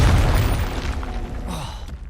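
Confringo fire-blast spell detonating in Hogwarts Legacy, a loud booming explosion that opens the clip with a heavy low-end burst and then rumbles and crackles off over about two seconds.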